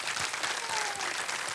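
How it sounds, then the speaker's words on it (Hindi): Studio audience applauding a contestant on the game show Kaun Banega Crorepati, a dense, steady wash of clapping that fills the whole moment, with a faint voice briefly audible beneath. "बहुत जोरदार तालियां बज जाएं इनके लिए।"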